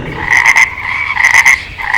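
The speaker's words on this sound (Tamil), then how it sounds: "தவளை மீண்டும் குதிக்க ஆரம்பித்தது." A frog croaking in close, loud bursts, two clustered runs of rasping calls separated by a brief pause.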